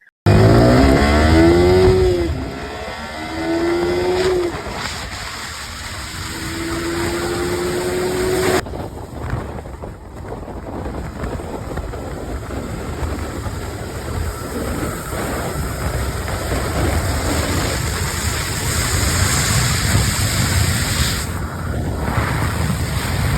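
A vehicle's engine runs flat out at top speed along an empty road, a steady loud roar with rising whine early on, then continuous road and wind rush to the end, no talk.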